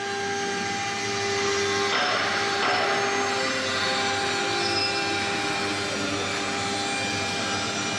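A CC MS3020K12 cylinder engraving milling machine runs with a steady high-pitched whine and a dense mechanical drone, continuous and fairly loud.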